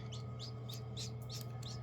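A baby silkie chick chirps while hatching, giving about six thin, high peeps at an even rhythm over a steady low hum, close to the listener, with no talking.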